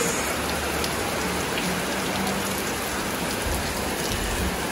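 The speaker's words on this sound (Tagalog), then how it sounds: "Naku po, grabe po ang ulan." Heavy, steady rain pouring down in a dense, continuous hiss with no voices, loud and close throughout.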